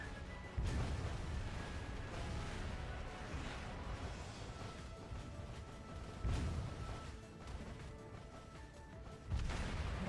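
Torpedo strikes exploding in the naval battle game Azur Lane, a dense rumbling mix of booms and crashes with sharper bursts at the start, around six seconds and near the end, over continuous game music.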